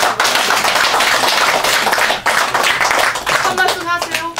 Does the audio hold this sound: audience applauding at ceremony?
yes